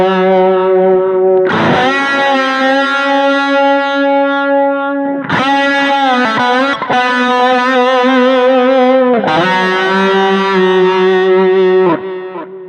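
An electric guitar with distortion and effects plays a solo in three loud, sustained phrases, each opening with a bent, singing note and holding long ringing tones before stopping.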